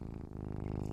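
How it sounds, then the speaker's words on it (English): Close, steady cat purring from the Garfield movie trailer, a low rhythmic rumble that pulses continuously through the moment with no voices. "So you can hear the purring of the cat."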